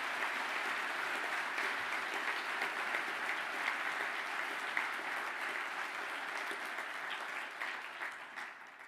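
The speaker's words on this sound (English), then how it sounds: "applause?" A large audience at a graduation ceremony applauds civil engineering graduates, with dense, sustained clapping at an even level that tails off slightly at the end; no speech.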